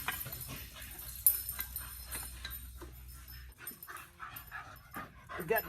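Dogs whimpering and panting excitedly nearby during a belt change on a Polaris RZR 1000, with quick breathy pants and thin whines over a low steady hum.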